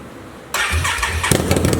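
A straight-piped 2019 Can-Am Renegade 1000 ATV with no exhaust cranks briefly, then fires up with a loud, sharp roar and rough, throbbing revs at close range.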